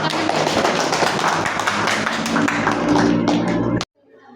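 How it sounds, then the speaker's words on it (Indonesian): A class claps together in a classroom, producing a dense, even burst of hand claps for almost four seconds before it stops abruptly, with a few voices under the clapping. "Ya, oke, tepuk tangan dulu."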